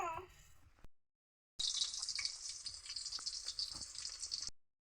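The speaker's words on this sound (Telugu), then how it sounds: "ఇప్పుడైతే ఎర్రగడ్డలు అయితే వేసేసుకుందాం మనం నూనె అయితే కాగిపోయింది బాగా" Onions sizzle steadily in hot oil in a pan, with a loud, continuous crackling hiss after a short pause, while brief speech is heard at the start.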